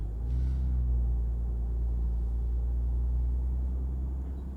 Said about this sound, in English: Pretty cool sound, by the way. It really sounds like a real car in low revs.